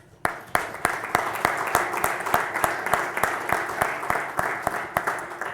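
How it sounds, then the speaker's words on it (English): A room at a town public hearing and work session breaks into applause for parents at a sports recognition: a dense, steady wash of clapping from a crowd, with a few louder claps standing out nearby. "you should also get a round of applause"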